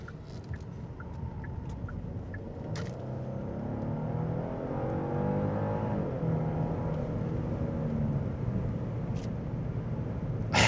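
A 2025 Genesis G90 luxury sedan corners on the road, its steady low engine and road drone building gently through the turn with faint interior clicks and no talking.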